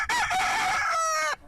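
A rescued cockfighting rooster crows one loud, close, drawn-out cock-a-doodle-doo, rising and then sliding down, alone with no talk over it.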